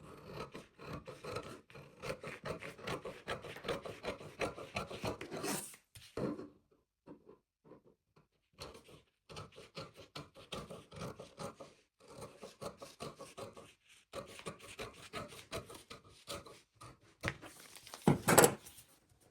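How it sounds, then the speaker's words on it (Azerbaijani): Scissors cut through fabric along drawn pattern lines for a crossover hijab, giving rapid rasping snips in bursts with a few short pauses and a sharp louder cut near the end, close and with no talking. "İndi isə kızlar xəttlər üzrə kəsirəm bu hissəni belə."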